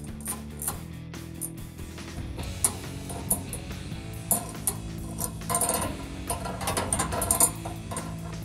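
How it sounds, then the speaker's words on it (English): A ratchet wrench turns bolts on a 2007-2021 Toyota Tundra's Barricade Extreme HD grille guard, giving close, rhythmic clicking in short bursts with some metallic clanks between them and no talking. "Now I'm gonna take these two bolts that I was working with earlier and we can get them started back up in there again."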